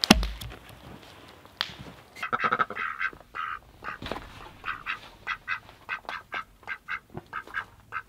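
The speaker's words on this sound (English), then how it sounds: "I'm out in front of the ducks." Ducks kept by a forest homestead quack repeatedly outdoors on a cold day, a steady run of close, loud calls following a few scattered knocks and thumps.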